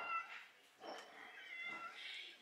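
Several cats meow faintly outdoors in the Oudaya kasbah in Rabat, a few thin overlapping cries spread across a couple of seconds over a quiet background hiss.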